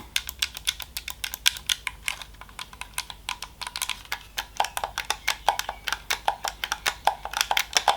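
Rapid, steady plastic button clicks from a Gamesir T4C game controller repeating close by for several seconds, like fast tapping on the buttons.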